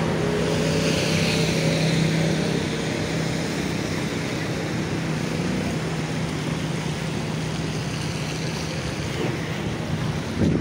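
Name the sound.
sea waves on Java's north coast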